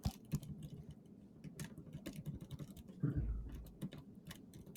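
Computer keyboard keys clatter in quick, irregular bursts of soft clicks and taps during a browser game, close and steady with no talking.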